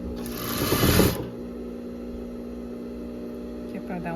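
An overlock serger stitches baby romper fabric in a short, fast whirring burst of about a second, then a steady low machine hum continues, with soft speech-like sounds faintly present.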